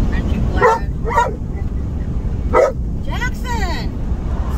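A dog barks and yips several times in the back of a Honda car, close up over steady road and engine rumble, with short whimpering cries between barks.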